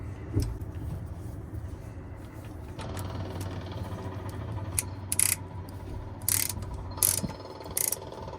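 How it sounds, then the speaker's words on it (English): A spark plug ratchet runs new plugs into a jet ski (WaveRunner) engine, giving a steady mechanical whir with quick clicking bursts toward the end, close up and moderately loud, no talking. "the benefit of that spark plug ratchet. Just run them in like that."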